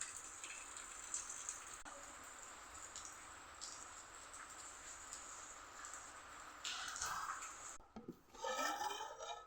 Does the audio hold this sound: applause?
no